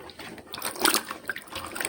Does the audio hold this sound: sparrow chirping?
no